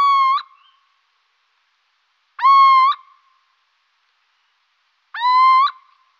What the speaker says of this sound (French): c'est la chevêche d'Athéna